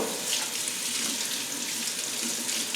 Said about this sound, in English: first I just rinsed the fish off